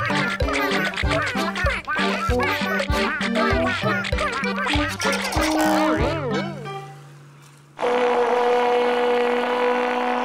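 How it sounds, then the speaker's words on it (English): Cartoon ducks quack in a rapid string of nasal, pitched calls that stops about two-thirds of the way in, with a voice talking over them before a sustained bright musical tone takes over. "Covering the quacky birds."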